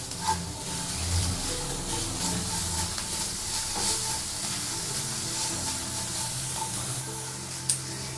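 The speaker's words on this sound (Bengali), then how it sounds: "কিছুক্ষণ ভেজে" Vegetarian food fries in a pan in a home kitchen, giving a steady, moderately loud sizzle and hiss with a few faint clinks, and no voices.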